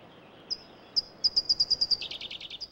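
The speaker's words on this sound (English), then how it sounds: "bachelor California towhees are one of the first birds to start singing in the morning and in the spring" California towhee song: a series of bright, sharp chirps that speeds into a rapid trill, clear and fairly close against a quiet background.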